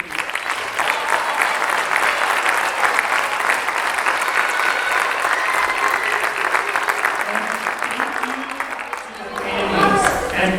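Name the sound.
audience applause at a school concert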